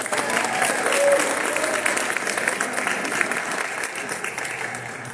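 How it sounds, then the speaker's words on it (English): Crowd at a youth workforce graduation ceremony giving the graduates a round of applause: a thick, continuous burst of clapping that peaks early, then tapers gradually. "One more round of applause for Forge City Works graduates."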